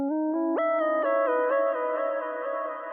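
Synth uplifter riser programmed in Cubase with ping pong delay and room reverb for an emotional progressive house track, stepping upward in bright sustained tones and holding steady and loud throughout, with echoes bouncing behind it and no voices.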